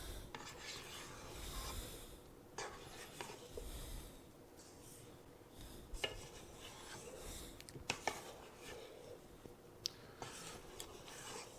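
Spatula scraping peanut chocolate chip cookie dough off a mixer paddle and bowl, soft intermittent rubbing and rasping strokes with occasional light knocks, close and quiet.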